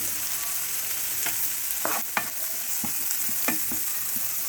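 Cabbage and potato curry frying in a pan, an even close sizzle with scattered scraping stirs and light clicks of a spoon against the pan.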